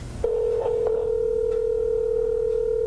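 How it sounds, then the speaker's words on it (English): A steady telephone tone sounds at a constant pitch for almost three seconds, linked to a scam phone call targeting Kansas City taxpayers, with a couple of faint clicks near its start. "It's a phone call just about anyone would take seriously."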